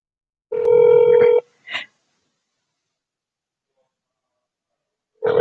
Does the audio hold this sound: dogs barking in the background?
no